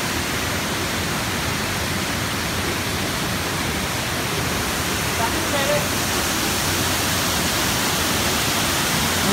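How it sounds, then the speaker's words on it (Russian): The first tier of Bo Ho waterfall near Nha Trang, Vietnam, roars as a steady, loud, broadband rush of falling water that fills the whole scene without a break. "А это первый уровень водопада Бо-Хо, который находится недалеко от Нечанга."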